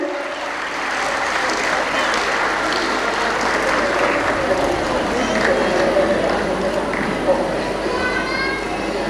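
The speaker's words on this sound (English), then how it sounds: "Please a huge round of applause for today's festivity and celebration." Audience at a school's annual prize distribution function applauds steadily throughout, a broad continuous wash of clapping from a large crowd with some voices mixed in.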